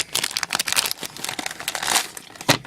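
Plastic packaging around a disposable camera being cut open, giving dense close crinkling and crackling in quick irregular bursts with no talking.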